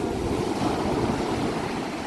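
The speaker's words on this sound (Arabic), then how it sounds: "الموجه هنا، شديده شديده يعني، هي عاليه وشديده بتخبط جامد بتوجع" Strong, high sea waves at Ras El Bar beach crash and roll in a continuous loud roar, the surf churning steadily with some wind rush, close and with no voices.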